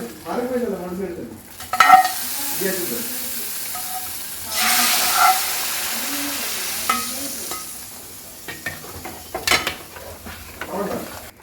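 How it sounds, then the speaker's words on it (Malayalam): Mustard seeds are tempered into a chicken curry. Hot oil crackles and sizzles in a loud burst, then a spoon stirs with scraping and clattering against the pot, and a few sharp metallic knocks come near the end. "നമുക്ക് കടുക് താളിച്ച് വയ്ക്കാം ഈ നല്ലതുപോലെ ഇളക്കി കൊടുക്കാം"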